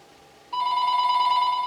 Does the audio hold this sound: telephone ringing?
yes